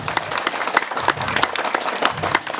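Audience clapping at a Balinese bondres comedy performance, a dense burst of applause with some cheering voices in the crowd, fairly loud and steady for a few seconds.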